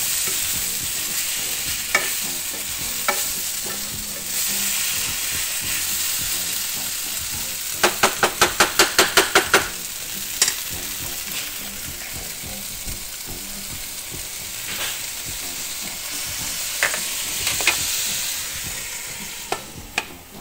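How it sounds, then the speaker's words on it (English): Food browns and deglazes in a frying pan, giving a steady loud sizzle while a utensil scrapes and stirs the bottom, including a quick run of rhythmic scraping strokes midway. "That's going to deglaze all that stuff that's sticking to the bottom."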